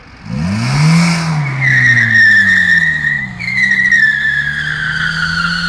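A 545 PS car performs a burnout, the engine rising in pitch as the tires squeal loudly and steadily for several seconds, the screech wavering and restarting midway.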